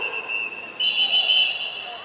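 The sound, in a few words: roller derby referee whistle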